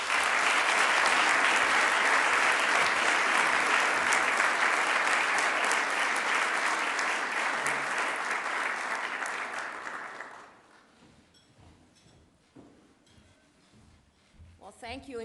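A large audience at a keynote address bursts into loud, sustained applause to welcome the featured speaker; the clapping fades after about ten seconds, leaving a quieter room with some voice.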